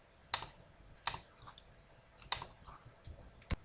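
Computer keyboard keys pressed, including the Enter key: a few sharp, isolated clicks spaced about a second apart, close and fairly quiet.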